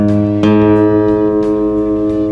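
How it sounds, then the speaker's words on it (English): Electric guitar notes are played for tuning, a fretted note followed by the next open string, two close sustained pitches ringing together loudly with slight beating and no talk. "if I play this note and play the string below it, I want to make sure that they sound the same."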